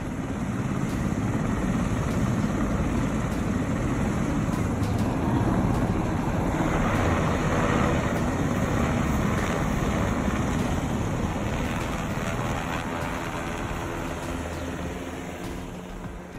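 Black Hawk helicopters landing in city street intersections, a steady loud rotor and engine roar with dense low rumble that holds constant before easing slightly at the end.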